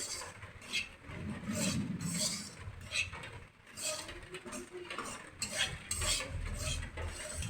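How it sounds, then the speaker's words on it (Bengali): Semolina being dry-roasted in a pan is stirred gently, giving uneven scraping and rattling strokes of a spoon against the metal, close by and moderately quiet, with a faint low rumble underneath. "সুজিটা দিয়ে দিচ্ছি। সুজিটা একটু হালকা নেড়ে নিই।"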